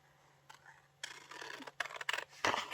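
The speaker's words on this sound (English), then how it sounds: "I was just going to cut a square out here" Scissors snip through paper at a craft table for a crossword puzzle collage, several close, crisp cuts growing louder toward the end with no talking.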